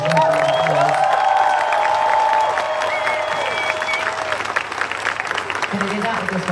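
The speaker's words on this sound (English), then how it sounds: "Give my incredible band a round of applause." A large concert crowd in Munich applauds and cheers for the singer's band, steady loud clapping with whoops filling the space before the noise slowly thins out toward the end.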